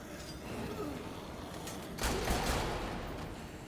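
Gunfire from shooting zombies in the video game Dead Rising 3, a sudden dense burst of shots starting midway, loud and crackling over the game's background noise, then tailing off.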